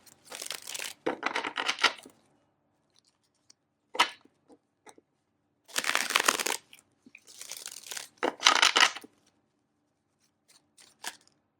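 Tarot cards are shuffled by hand in a quiet room, giving several bursts of crisp riffling and sliding, each lasting a second or two, separated by pauses with occasional single taps.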